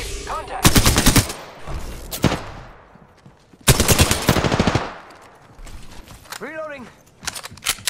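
Automatic gunfire in Apex Legends: loud rapid bursts of shots in several volleys separated by quieter gaps, with whizzing and ricochet-like sweeps near the end and game voice lines in between.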